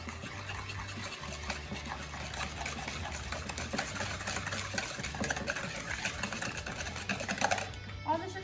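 Electric mixer beating pumpkin spice muffin batter with white and brown sugar, a steady close motor whir and rattle running throughout with no pauses.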